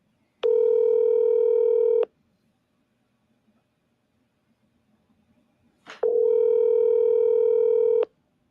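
Two long steady telephone dial tones, each about one and a half seconds, separated by a quiet pause, heard clearly on a call placed once more after reaching voicemail.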